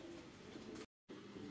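Pigeons cooing softly at a fancy-pigeon farm in Natore, including a blue-white male, a steady low murmur that cuts out briefly in the middle and then resumes.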